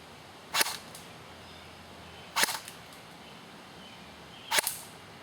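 A CYMA M4 CQB airsoft AEG fired through a chronograph with 0.25 g BBs, three single sharp snapping shots about two seconds apart, close and crisp against quiet room noise.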